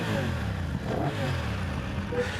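A 2025 BMW F900GS adventure motorcycle engine runs steadily and close by, with a deep, continuous mechanical rumble that holds through the whole short stretch.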